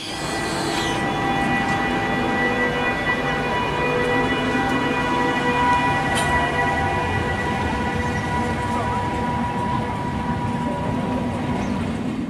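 A Bergen Railway train runs steadily for over ten seconds in a continuous, loud rumble with sustained tonal whine from wheels and motors, carrying on unchanged throughout.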